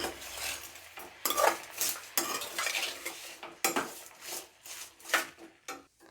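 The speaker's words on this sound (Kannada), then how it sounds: "ಇವಾಗ ಇದನ್ನು ಮತ್ತೆ ಫ್ರೈ ಮಾಡ್ಕೊಳ್ಳೋಣ." Onions and tomatoes with turmeric, cooking for paneer butter masala, are stirred in a pan with a metal spoon, giving repeated close scrapes and clatters over a faint sizzle.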